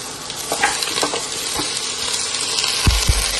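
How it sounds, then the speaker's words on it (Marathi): Goat trotters sauté in a pan with onion, black pepper and spices, sizzling continuously while a spoon scrapes and stirs in irregular strokes, ending with a couple of louder knocks against the pan. "बकऱ्याचे पाय ह्याच्यामध्ये आता चांगले परतून घ्यायचे आहे"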